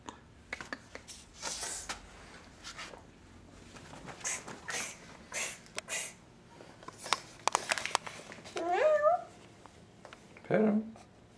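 A cat meows a couple of times near the end, short rising cries amid bursts of people talking and shuffling noises indoors.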